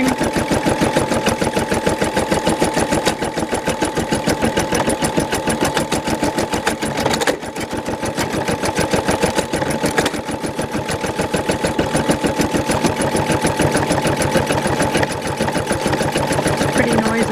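A home embroidery machine stitches with a fast, steady mechanical rattle, rapid repetitive needle strikes continuing throughout with a brief pause near the middle.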